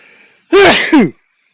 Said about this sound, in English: so I was going to sneeze, but I did sneeze.